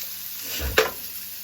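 Onions fry for steak fajitas with a brief burst of close sizzling and a single sharp utensil clink against the pan, and no one talks.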